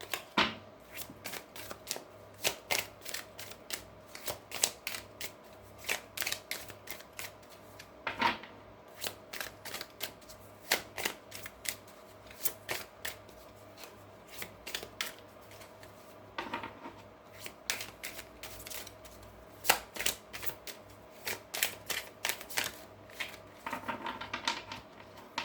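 Oracle cards are shuffled for a card reading, giving repeated bursts of riffling and flicking card noise in an uneven rhythm, close and clear, with no talking.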